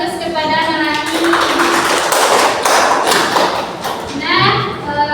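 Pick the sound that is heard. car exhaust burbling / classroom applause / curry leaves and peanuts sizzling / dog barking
classroom applause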